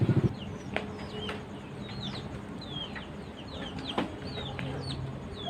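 Chickens cluck repeatedly at moderate distance, with high chirping calls and a brief flap of wings over a steady outdoor background.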